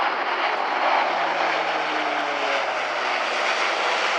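An Airbus A400M military transport aircraft flying a display at RIAT 2017, pulling up into a steep wingover: a loud, continuous turboprop roar with a slowly sliding engine tone, heard alone.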